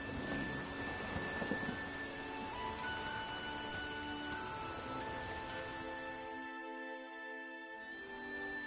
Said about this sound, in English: There's no point standing here in the rain.